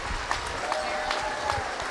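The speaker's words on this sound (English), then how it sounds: "let's give an outstanding round of applause for all these athletes" Crowd at a Clarkrange basketball event giving a round of applause for the athletes, a continuous patter of clapping with a few louder claps, and voices mixed in under it.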